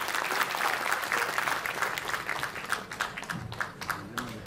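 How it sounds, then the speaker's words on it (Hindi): Audience applause at an inauguration ceremony, dense steady clapping from a crowd that holds strong throughout before thinning slightly toward the end. "जोरदार तालियां"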